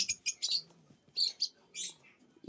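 Mutation lovebirds for sale, including blue cobalt mops, giving quick bursts of high bright chirps and tweets in short clusters, fairly close and clear against a quiet background.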